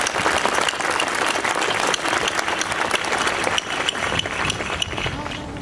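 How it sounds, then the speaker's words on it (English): A large graduation audience at a college commencement applauds in a dense, steady wash of clapping that holds loud for the whole stretch, easing slightly toward the end. "will you please join me in a round of applause"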